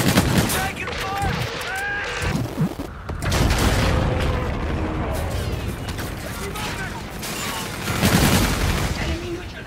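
Dense gunfire rattles through a Call of Duty: Infinite Warfare team deathmatch, rapid automatic bursts and heavy booms layered close and loud for nearly ten seconds, with game voices speaking over the fighting.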